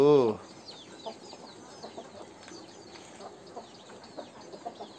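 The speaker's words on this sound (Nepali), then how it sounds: "यो हाम्रो नयाँ खसी भाले हो" A castrated rooster gives a short cluck at the start, followed by faint chirping birds and light rustling in a quiet outdoor setting.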